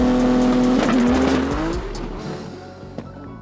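A Nissan GT-R makes a drag racing pass and breaks a driveshaft: a loud close engine howl rises and wavers, then cuts away abruptly into fading rumble, with a sharp pop shortly after.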